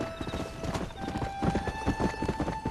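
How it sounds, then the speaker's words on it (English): A horse's hooves clip-clop steadily and close in Red Dead Redemption as the rider's stallion trots along, with a neigh and steady tonal game ambience underneath. "We've got our good old stallion, which is our new horse."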